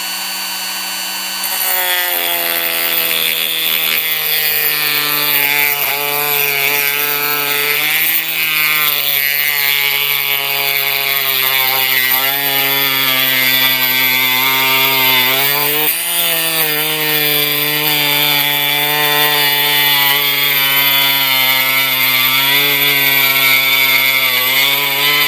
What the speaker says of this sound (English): I'm just going to use this Dremel wheel and we're going to file this back.